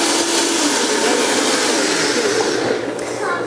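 A Vitamix blender whirs at high speed while making almond pancake batter, a loud, steady roar that holds constant and dips slightly near the end, with a faint voice toward the close.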